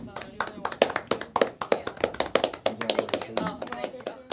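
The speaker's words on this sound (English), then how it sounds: "The clapping starts." A small group claps at a farewell, with many sharp, uneven hand claps running steadily and close by for several seconds, mixed with voices talking underneath.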